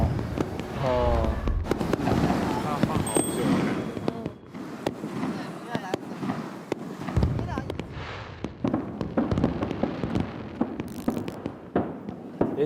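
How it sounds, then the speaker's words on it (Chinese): A seaside fireworks show, including heart-shaped bursts, produces a long run of irregular booms and crackling pops at a distance, mixed with people chatting and exclaiming throughout. "哇，那烟花还有心形的。"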